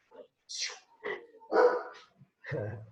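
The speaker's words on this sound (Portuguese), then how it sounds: "Vocês não reparem não que minha casa é habitada por felinos e cachorrinhos" A small dog barks indoors at a house in a few short, sharp yips with gaps between them, close by and moderately quiet.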